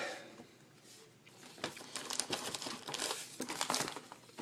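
Cards from a 2012 Topps Allen & Ginter's pack being pulled out, with close, dry crinkling and rustling of wrapper and card stock in uneven bursts that grow busier halfway through.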